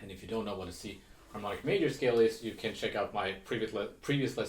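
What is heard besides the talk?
No everyday noises stand out.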